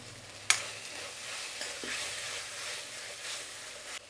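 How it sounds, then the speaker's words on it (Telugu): Tomatoes with ginger-garlic paste frying in a pan, a soft, steady sizzle with a couple of faint utensil taps, quiet and close. "ఇంకొంచెం బాగా వేయించుకుందాము"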